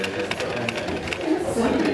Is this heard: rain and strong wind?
no